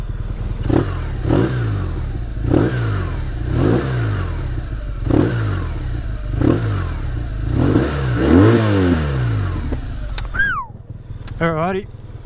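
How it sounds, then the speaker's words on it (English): A heavy, big motorcycle revs its exhaust in repeated blips, about ten evenly spaced throttle pulses rising and falling close to the mic, with a short whistle-like tone near the end. "I'll give you guys a little preview of what the exhaust sounds like."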